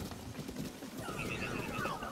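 A horse gallops with a quick clip-clop of hooves and gives a short whinny near the end, heard faintly against background noise.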